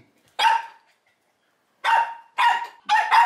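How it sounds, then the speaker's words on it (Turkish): Dog barking indoors: one sharp bark, a pause of over a second, then three more close, loud barks in quick succession against near silence. "Havlamaya başladı."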